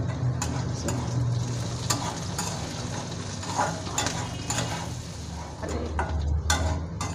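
Chopped green chillies sizzle and fry in a pan with potatoes for sabudana khichdi, with steady crackling, while a utensil stirs and scrapes now and then.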